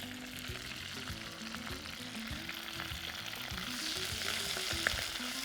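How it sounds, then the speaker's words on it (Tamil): Cinnamon, bay leaves, star anise, mint and coriander frying in hot oil, a steady close sizzle with occasional stirring scrapes and no talk. "போட்டு நல்லா வதக்கலாம்."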